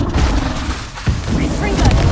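Spell explosions in the Hogwarts Legacy video game rumble through as heavy, booming blasts, loud and close, with one sharp impact near the middle and crackling debris over continuous low rumble, mixed with a voice shouting.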